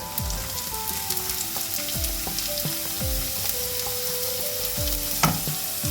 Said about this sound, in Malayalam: ഇതിലേക്ക് നമ്മൾ എടുത്തു വെച്ചേക്കുന്ന സവോളയാണ് രണ്ട് വലിയ സവോള എടുത്തേക്കുന്നത് ഇടാം